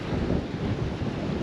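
Wind buffeting the microphone on a sea dike during surfcasting, a steady rough roar with low gusting rumble and no talk.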